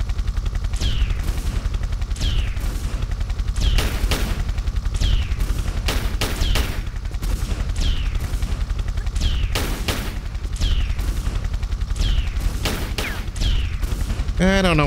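Steady bursts of gunfire in Tomb Raider 3, set in a city level, rattle on continuously at close range, with repeated sharp shots and ricochet-like whines throughout.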